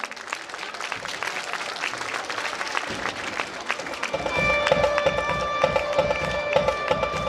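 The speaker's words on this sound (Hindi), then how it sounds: "तब तक स्टेज पर आना जब तक आपके कान जो है ना वो तालियों की गूंज से वो लबरेज ना हो जाएं" Steady applause from an audience at a school results ceremony throughout, with a faint tonal hum or music entering partway and people murmuring beneath the clapping.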